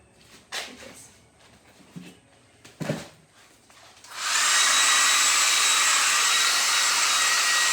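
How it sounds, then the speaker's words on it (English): A blow dryer dries paint on a painting, switching on after a few quiet rustles and handling sounds and then roaring in a loud, steady, close-up hiss that runs to the end. "I'm going to blow dry this with a blow dryer."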